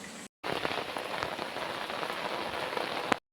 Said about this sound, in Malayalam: നമ്മൾ പോകുമ്പോൾ നല്ല മഴയായിരുന്നു.